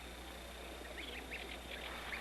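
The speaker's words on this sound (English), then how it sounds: "The continual sounds between the researcher and the goslings is a form of reassurance." Soft, faint peeping calls from young geese come in a few short bursts over a steady background hum.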